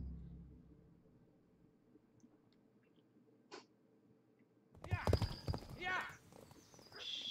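Horse hooves gallop in the video game Kingdom Come: Deliverance during a boar hunt. After a long near-silent stretch with a faint brief chime, a loud burst of hoofbeats and clatter bursts in near the end.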